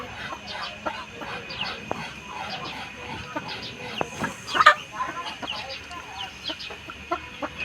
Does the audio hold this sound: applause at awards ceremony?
no